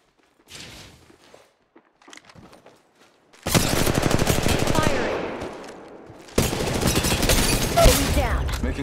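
Sustained automatic gunfire in the Apex Legends battle royale video game, two long loud close bursts of rapid shots after a quieter stretch of scattered small noises and faint movement.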